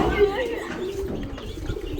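Low repeated cooing of a domestic pigeon near a house, mingled with a voice talking throughout.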